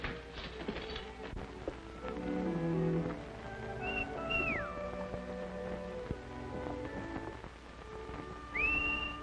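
Faint, distant whistled notes rise and slide over a busy background of music and ambient noise, appearing twice briefly.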